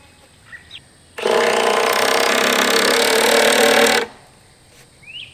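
A power drill whirs loudly for about three seconds as it drives a screw into the wood of a raised garden bed, then stops, leaving a quiet room with small knocks.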